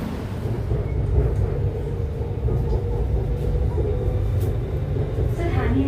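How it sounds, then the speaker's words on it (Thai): Bangkok BTS Skytrain Green Line train running between stations after leaving National Stadium, heard from inside the car as a steady, loud low rumble and rolling hum that holds without a break. "นั่งรถไฟสายสีเขียว จากสถานีสนามกีฬาแห่งชาติ นั่งมาเรื่อย ๆ ค่ะ"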